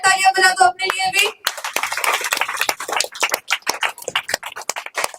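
Schoolchildren at a school quiz competition clap for themselves: a voice speaks briefly, then loud, brisk, irregular hand claps from the group follow and continue to the end.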